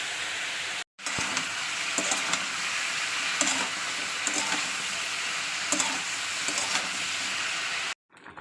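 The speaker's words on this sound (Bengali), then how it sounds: "ওদিকে আলু ভাজা হচ্ছে" Potatoes frying in a pan in a home kitchen give a steady, close hiss and sizzle with faint scraping, running without pause except for two brief dropouts.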